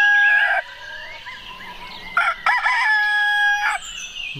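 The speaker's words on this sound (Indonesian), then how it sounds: "ada ayam jago" A rooster crows loudly and close by, a long ringing call followed by a second crow with some clucking between, standing alone with no voices.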